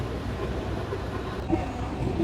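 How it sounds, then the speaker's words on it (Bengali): A Bukit Bintang monorail train pulls into the station in Kuala Lumpur, a steady low rumble with a faint squeal of wheels near the end, heard over a busy platform murmur. "ট্রেনে চলে আসলো এই মুহূর্তে"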